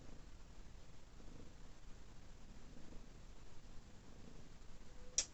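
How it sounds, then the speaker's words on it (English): A cat purrs softly and steadily, a faint low rumble close by with no voices, ending in a brief small click. "And I have a cat again."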